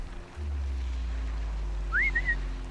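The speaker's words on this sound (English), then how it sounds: "Let me whistle." A character in the video game Horizon Zero Dawn gives a short rising two-part whistle over a steady low engine-like drone, clear and fairly loud.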